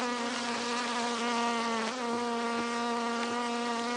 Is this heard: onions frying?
no